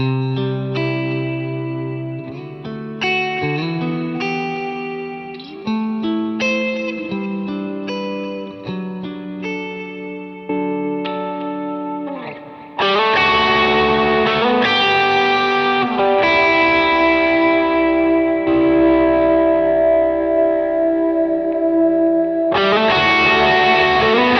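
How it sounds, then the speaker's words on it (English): Electric guitar notes and chords through the ambient reverbs of a Fender Tone Master Pro ring out with heavy reverb and lingering echoes, shifting into louder sustained washes of ambient sound. "I really like the way this reverb sounds"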